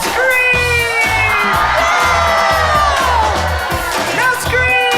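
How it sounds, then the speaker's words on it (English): A large crowd of children screams and cheers at a loud music event, a dense continuous wall of shrill voices with whoops rising above it. "Now scream!"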